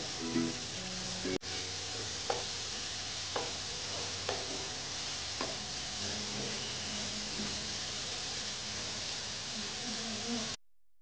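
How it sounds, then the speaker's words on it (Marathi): Onion sautéing in hot oil in a pan for a mutton dish, a steady soft sizzle and hiss running throughout, with a few faint stirring clicks and scrapes scattered over it. "कांदा आपल्याला छान तेलावरती एक साधारण 3 ते 4 मिनिटे परतून घ्यायचा आहे।"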